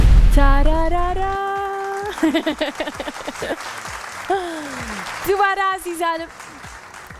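Studio audience applause rises in short bursts between a host's sung jingle and spoken greeting, the clapping fairly close and partly under the voice.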